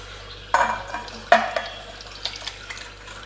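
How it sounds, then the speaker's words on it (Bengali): Bengali vegetarian dhokar dalna, made with chana dal cakes, is ladled from a wok into a bowl: two sharp metal clinks of the ladle against the pan, then softer scrapes and light taps, fairly close over a quiet background. "আমি এবার বাটিতে ঢেলে নেব, নিয়ে কড়াই ধোয়া জল দেব একটুখানি।"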